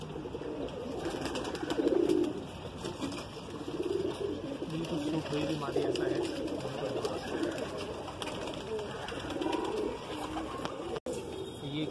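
Madrasi pigeons from Andhra coo softly in low, repeated murmurs beneath ongoing close talk, with a steady background hum.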